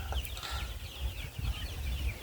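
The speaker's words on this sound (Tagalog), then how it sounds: "ang pag-alaga sa ating mga sisiw na Rhode Island." Soft high chirps and peeps from Rhode Island chicks, steady and close, over a low rumbling background.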